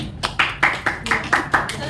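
A run of roughly seven crisp, evenly spaced claps rings out at an Indian Tata MDRT achievement event, fairly loud and close, with voices talking underneath.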